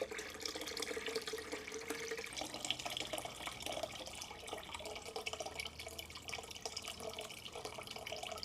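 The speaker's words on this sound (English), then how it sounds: "it's much easier to pour in having a big container like this, Dan." Water pours steadily into a 5 litre measuring jug, a continuous rushing, splashing stream that runs unbroken and fairly quiet throughout, with no talking.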